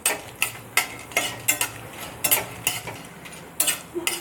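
Fenugreek seeds and dried red chillies roast in a dry pan over high heat, with regular scraping and stirring strokes of a spatula against the metal and a faint crackle between them, no speech.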